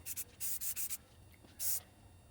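Hand sanding of primer on a motorcycle mirror mount, a few quiet, close rasping strokes in a quick run of four, then a pause and one more stroke.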